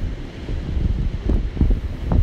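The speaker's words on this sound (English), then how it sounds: "Oh, there's some crashing waves behind me." Ocean waves breaking on the beach at Bamburgh on a wet, windy day, a continuous rushing roar with gusting wind buffeting the microphone and a few louder wave surges, no voices.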